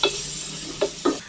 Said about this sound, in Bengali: মশলাটাকে কিছুক্ষণ কষিয়ে নেব।